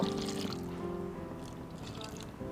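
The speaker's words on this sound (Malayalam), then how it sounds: "1/4 കപ്പ് വെള്ളം ഒഴിച്ചിട്ടുണ്ട്" Water pours steadily into a pot of beef nearby, a continuous trickling splash lasting a couple of seconds.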